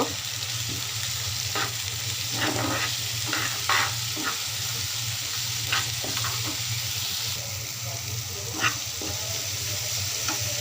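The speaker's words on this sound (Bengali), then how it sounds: "মশলাটা ভালো করে কষিয়ে নেব" A masala spice paste stir-fries in a pan for a live koi fish dish, giving a steady loud sizzle throughout with frequent scraping stir strokes and faint watery bubbling.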